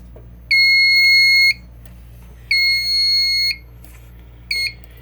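A fire alarm panel in drill mode sounds three electronic beeping tones: two long blasts of about a second each, then a short one. They stand out clearly over a steady low hum, with no one talking.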